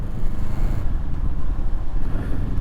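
A 2024 Moto Morini Calibro motorcycle engine turns over at low revs, about two to three thousand rpm, giving a steady, deep, loud rumble throughout with no break.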